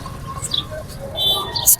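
Pigeons coo softly amid the steady murmur of a busy open-air bird market in Lahore, with faint chirps and bustle around them.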